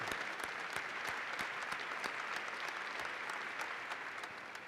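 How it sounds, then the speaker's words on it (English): Steady applause from an audience at a NASA budget briefing, continuous and fairly faint throughout, with no voices over it. "You're getting applause if you can't hear it."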